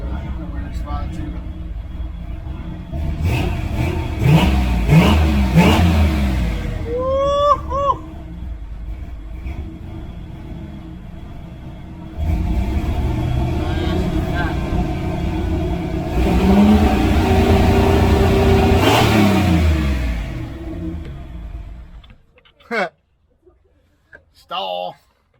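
A small-block Chevy engine fitted with Holley Sniper EFI idles roughly and revs in several rising and falling bursts, loud and close, with people talking over it before it cuts off near the end.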